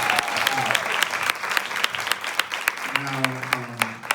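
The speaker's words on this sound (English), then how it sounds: "give another round of applause for Odell Sr." Live podcast audience applauds for Odell Beckham Sr., a steady crowd clapping that fills the room for about four seconds, with a voice speaking faintly over it toward the end.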